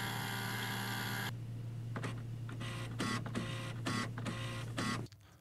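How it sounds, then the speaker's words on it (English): An HP Officejet 6500 printer powering on and resetting: a steady mechanical hum gives way to a series of whirring carriage movements and clunks, about six bursts in a row, ending with a motor stopping. "Wait for the printer to turn on and stop making noise."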